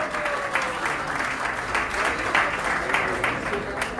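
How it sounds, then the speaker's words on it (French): An audience claps steadily for a family presenting a gift at a celebration, with dense, sustained applause filling the room at moderate loudness throughout, and a few louder individual claps standing out. "Sous vos applaudissements,"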